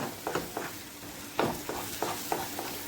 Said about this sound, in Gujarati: હવે જ્યાં સુધી ઘી છૂટતું ન પડે ત્યાં સુધી આપણે આને થવા દઈશું આવી રીતે હલાવતા રહીશું સતત